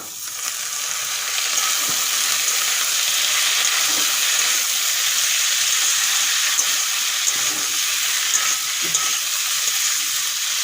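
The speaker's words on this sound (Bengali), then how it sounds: "ধুয়ে রাখা আলুগুলো এখন দিয়ে দেব" Washed, thickly cut potatoes fry in hot oil with a loud, continuous hissing sizzle, and a few soft stirring knocks sound under it.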